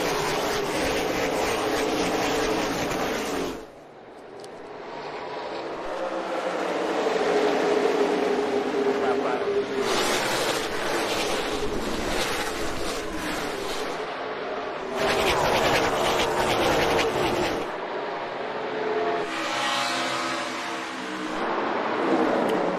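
NASCAR stock cars race at Darlington just after the green flag, a loud, dense roar of engines that swells and fades in waves as the pack passes, with a commentator's voice mixed in.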